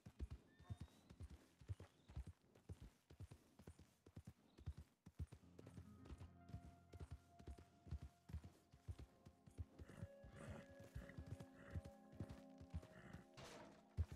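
Horse hooves galloping in the western video game Red Dead Redemption 2, a fast, rhythmic, close pounding of hoofbeats with a faint whinny, set against game music.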